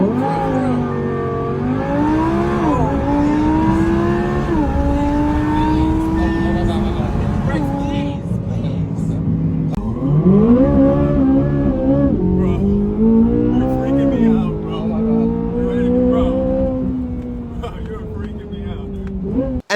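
A car's engine is revved hard during an aggressive test drive, loud and close, the pitch climbing and falling through repeated surges, with talk mixed in.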